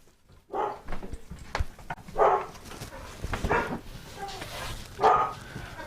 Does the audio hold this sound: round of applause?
no